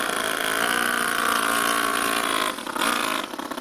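A 2-cylinder 4-stroke engine fitted in an RC car runs steadily nearby with a buzzing, harmonic drone, loud and even, then dips and briefly swells as the throttle is blipped near the end.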